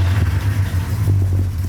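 A Porsche 928's engine turning over into a steady, deep idle, a low throbbing hum that runs continuously and loud up close, with no voices over it.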